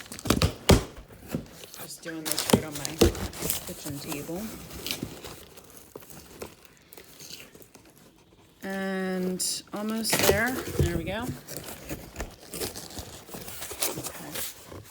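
Packing paper crinkles and tears in bursts on a kitchen table as a lab kit is unpacked, with a person talking over much of it.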